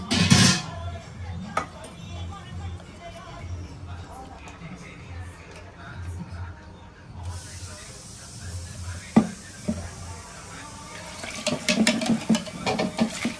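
Water is poured into a container holding leftover dal to rinse it out during home cooking of sambar, a rushing splash that begins partway through, with people talking throughout.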